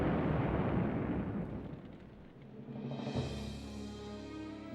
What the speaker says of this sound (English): the Lexington, still afloat, suddenly erupted in a huge explosion.